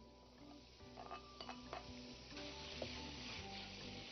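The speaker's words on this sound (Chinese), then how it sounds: "现在起锅点火，下入色拉油，油热以后啊，我们下入姜丝" Shredded ginger goes into hot salad oil in a wok, giving a soft steady sizzle with a few clinks and scrapes of a utensil against the pan, fairly quiet and close.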